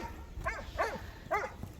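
A dog gives three short excited barks or yips, close by, spaced out over a quiet background.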